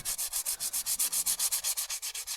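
Sandpaper rubbing against a spinning wood turning on a lathe, a steady rhythmic rasp pulsing about eight times a second, close and fairly loud with no voices.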